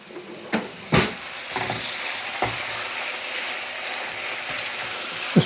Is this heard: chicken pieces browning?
yes